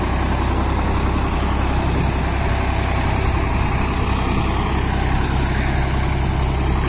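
A Swaraj 963 FE CRDI tractor puddling a wet field rumbles with a loud, steady, close diesel drone, unbroken and alone for the whole stretch.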